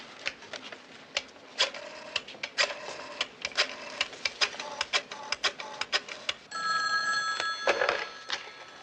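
An old telephone used to place a call in a 1970s setting, a rapid series of sharp clicks and ticks like a rotary dial, then a brief bright ringing tone.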